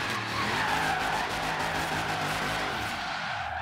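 A heavy Dodge Charger R/T muscle car drifts in Forza Horizon 3, tires squealing in a long continuous screech over a low engine drone, loud and close, fading slightly at the end.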